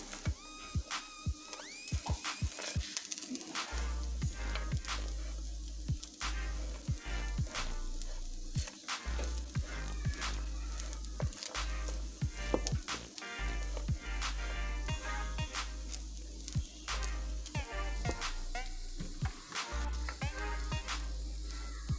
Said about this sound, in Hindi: ड्राई फ्रूट्स को डाल के भी हम इसे भूनते रहेंगे।